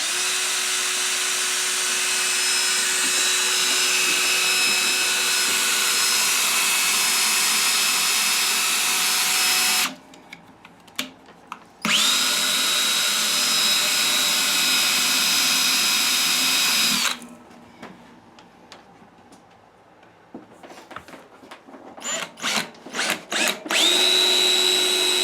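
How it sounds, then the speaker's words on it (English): A power drill bores pilot holes in several long bursts, a loud steady whine that stops, restarts and ends in short stuttering pulses, with no talking. "I'm just going to drill a few pilot holes"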